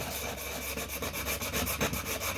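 A vintage knife sharpening stone being flattened, a steady rhythmic rubbing and scraping of stone on an abrasive surface, close and continuous with regular back-and-forth strokes.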